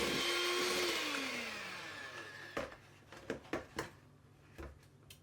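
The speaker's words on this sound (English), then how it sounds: "we are going to cream the sugar and margarine together" Electric mixer creaming sugar and margarine, its motor whirring loudly and sliding down in pitch as it slows and stops, followed by several soft knocks and clatters from the bowl.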